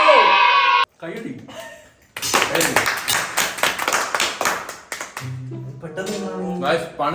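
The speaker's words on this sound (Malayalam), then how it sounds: "കൈയടി." Hand clapping at home during a family eating challenge, a quick, loud burst of claps in the middle stretch, with talk and other voices before and after it.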